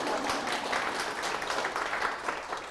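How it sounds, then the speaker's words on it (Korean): Listeners at a public lecture for Yeongdeungpo district officials clap together, a moderately loud, continuous patter of many hands that holds steady throughout without talk. "우리 박수 한번 칩시다."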